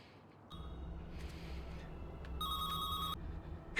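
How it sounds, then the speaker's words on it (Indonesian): A mobile phone rings from inside a wardrobe, its electronic ringtone sounding in short bursts over a low room hum, with no talking. "dari dalam lemari inilah ada sebuah panggilan handphone"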